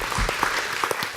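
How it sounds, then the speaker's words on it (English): A small audience gives a short round of applause, scattered claps in a steady patter lasting about a second, fairly close and moderately loud. "So if everybody just give my wife a round of applause."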